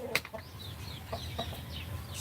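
Hen fussing and kicking at a nesting basket before laying an egg, giving a few short, fairly close clucks and squawks over a steady low background hum during humid, cloudy spring weather.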